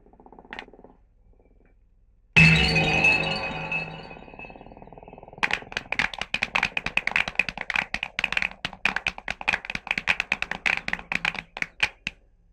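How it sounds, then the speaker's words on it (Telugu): A group of people claps, first one sustained loud burst and then a long run of sharp, rapid individual claps that thin out toward the end. The clapping is close and carries no talk. "సార్, చప్పట్లు కొట్టింది నా కోసమేనా?"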